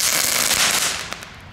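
Firework cake going off in a residential area, a fast burst of sharp crackling bangs that fades out within about a second.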